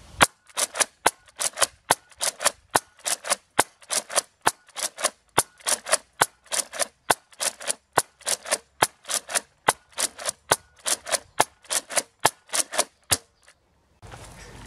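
A Nerf Elite Rampage foam-dart blaster fires about thirty sharp, evenly spaced shots in a steady rapid rhythm, loud and close, with no talking, then falls quiet at the end.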